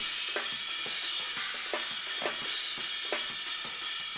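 Overhead microphone on a metal drum kit, catching a bright, washy wall of cymbals with snare hits poking through at a steady pace, fairly quiet and without talk.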